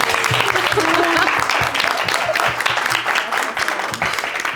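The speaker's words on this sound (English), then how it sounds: "One round of applause for Eva." Audience applause for a panel guest at a conversation event, dense and steady clapping with some voices underneath, fading slightly toward the end.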